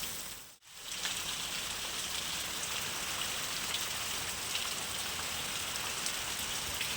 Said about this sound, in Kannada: ಮಳೆ ಸಿಕ್ಕಾಪಟ್ಟೆ ಜೋರಾಗಿ ಬರ್ತೈತೆ